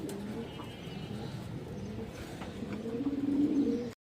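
Indian high flyer kaldam male pigeon cooing, low repeated burbling notes that swell louder toward the end, close and fairly quiet against a steady background hum.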